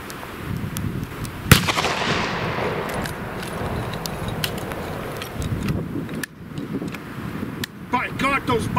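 Martini-Henry rifles discharge in volley fire: one sharp, loud crack followed by a trailing echo, then a couple of further shots later on, with voices calling out over steady outdoor background noise.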